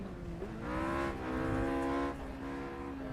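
A race car in the Project Cars video game at Monza, its engine droning in steady high harmonics that rise and fall through gear changes, with faint tire noise and no talking.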